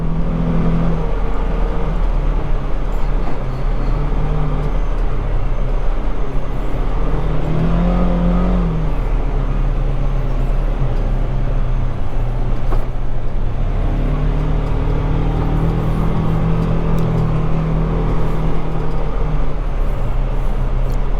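A four-wheel-drive off-road vehicle drives along with a steady, loud engine drone and low rumble, its pitch rising and easing slightly at times.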